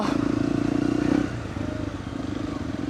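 A motorcycle engine holds a steady moderate throttle while riding a forest trail, a continuous low drone that dips slightly after about a second, with some clatter from the ride.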